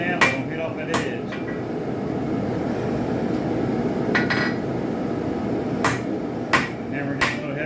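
Hammer blows on hot steel over an anvil while forging a spike knife, struck in uneven clusters with pauses between, each hit a bright sharp clang over a steady low roar.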